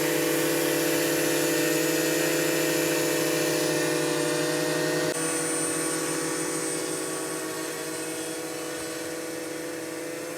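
A drone lifting off, its propellers giving a loud, steady high-pitched whir with buzzing tones that hold throughout and ease slightly as it climbs away, with no talk.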